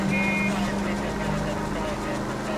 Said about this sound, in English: This car doesn't sound too good, to be fair.